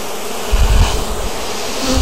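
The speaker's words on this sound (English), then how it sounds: "Sometimes they won't set down very well because they'll be on bees. Just let them sit. The bees will move out of the way very quickly." Honeybees buzz loudly and steadily at close range as they crawl over hive frames during a package install, a dense droning hum with no talk.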